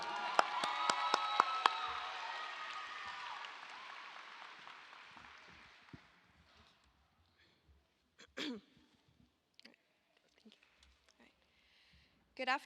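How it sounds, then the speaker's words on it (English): A graduation crowd at a Baltimore City Public Schools ceremony breaks into loud applause for the valedictorian. The clapping fades over about six seconds, then gives way to a quiet room with scattered coughs and small noises. "Give her a round of applause"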